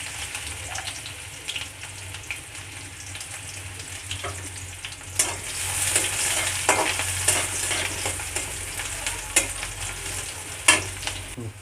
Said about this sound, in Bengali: তো বন্ধুরা রসুনগুলো ভাজা হয়ে গেছে, এর মধ্যে এখন দিয়ে দিচ্ছি পেঁয়াজ কুচি।